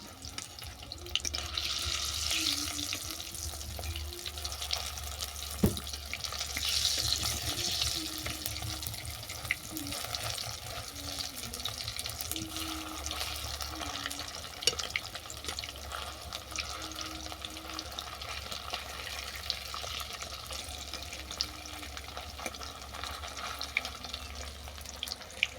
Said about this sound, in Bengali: এক পিঠ বাদামি করে ভাজা হয়ে গেছে, আমি অপর পিঠ উল্টে দিলাম।